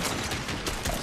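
A sniper rifle shot in an online shooter game, a dense burst of loud gunfire filling the short moment with no pause, heavy and close.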